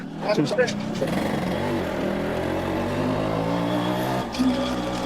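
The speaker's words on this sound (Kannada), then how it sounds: "ಆಕ್ಚುಲಿ ಇದು ಸ್ಟಾಕ್ ಸೈಲೆನ್ಸರ್ ಇನ್ನೂ ಇರೋದು ಇದರಲ್ಲಿ ಒರಿಜಿನಲ್ ಅದರಿಂದನೇ ಸೌಂಡ್ ಬರ್ತಿದೆ" A Yamaha RX motorcycle engine with its original stock silencer thrums and revs in deep, steady pulses close by, with a brief throttle blip near the start and again at the end.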